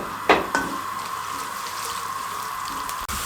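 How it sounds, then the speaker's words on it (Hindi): Sliced onions fry in hot oil over a high flame for a degh-style shahi chicken korma, giving a steady close crackling sizzle with a couple of brief stirring clatters near the start and no talking. "हाई फ्लेम पे हम इसको प्याज को ब्राउन होने के लिए छोड़ेंगे"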